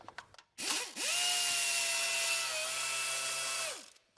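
A power tool removes 10mm screws from the lower timing belt cover of a Lexus LS400, giving a brief rising whir, then a long steady high-pitched spin for nearly three seconds before winding down.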